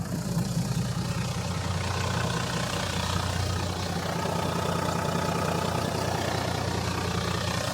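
An off-road vehicle on Kenda tires drives across sandy, quicksand-like ground in the Pilliga, its engine a loud, steady, close rumble that fills the whole stretch without a break.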